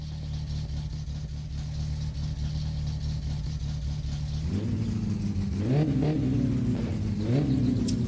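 In the video game My Summer Car, a Satsuma's engine with the exhaust removed drones at a steady idle, then revs up in loud, rough, raspy surges that rise and fall repeatedly.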